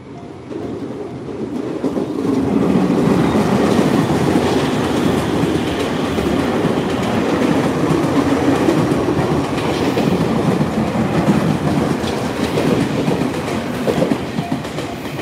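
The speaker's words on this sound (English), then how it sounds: "as we see the next train coming from the other way" A train passes at Itabashi Station in Tokyo, its steady rumble and rolling clatter filling the whole stretch loudly and close by, with no talk over it.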